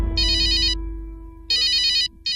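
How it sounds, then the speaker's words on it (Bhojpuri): A mobile phone ringtone plays in repeated bright electronic bursts in a restaurant setting, ringing, pausing, then starting again, clear and fairly loud with no talk over it. "ओ बाबूजी के फोन"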